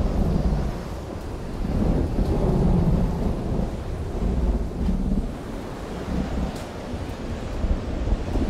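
A first rain falls with thunder: continuous heavy rain hiss over deep, rolling thunder rumbles that swell and fade throughout, with no voices.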